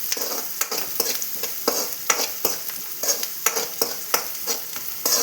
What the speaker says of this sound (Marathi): त्यात 2 कांदे बारीक चिरलेले टाकलेलं आहे। ते थोडं चांगलं परतून घ्यायचं।